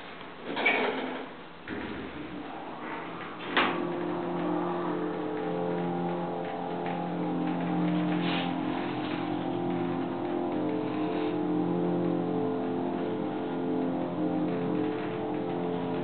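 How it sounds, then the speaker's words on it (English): A Montgomery hydraulic elevator's motor runs as the car travels, giving a steady hum with layered tonal whine throughout, preceded by a couple of brief clunks near the start. "It has a very nice motor sound,"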